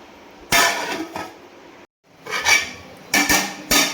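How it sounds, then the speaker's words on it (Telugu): Gongura leaves and green chillies being pounded in a stone mortar for chutney, giving sharp, close knocks and clinks in uneven bursts with brief pauses between strikes. "ఇప్పుడు పచ్చడిని అయితే రోట్లో నూరుకోవాలి."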